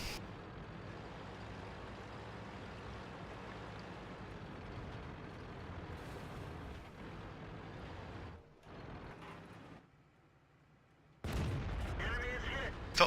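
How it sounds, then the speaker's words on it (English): An AMX CDC tank gun fires through trees in World of Tanks: a sudden loud blast cuts in near the end after a long, low rumbling stretch and a brief quiet gap. "Felt pretty confident there, shooting through the trees, just assuming I would not be spotted."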